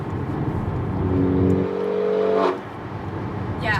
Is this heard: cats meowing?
no